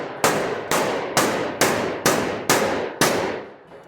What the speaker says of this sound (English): hit this with a rubber hammer now